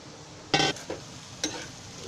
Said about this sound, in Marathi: जरा फ्राय करून घ्यायचं